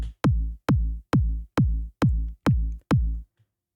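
A dry EDM kick drum sample with no effects, produced in FL Studio for a techno track, strikes seven times at an even pace, each a punchy deep thump with a quick decay, alone and close.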